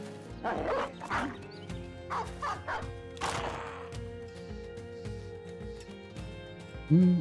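Hounds barking in the Battle Brothers video game, several sharp close barks in quick bursts with yips, over a low game background and a final louder thud.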